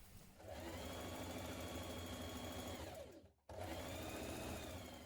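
A sewing machine top-stitching a jumpsuit seam runs in a steady close whir, stops briefly near the end, then starts up again with no voices.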